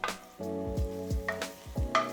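Ginger and Sichuan peppercorns crackle and sizzle in hot oil over low heat at close range, a busy frying hiss with small pops and no voices.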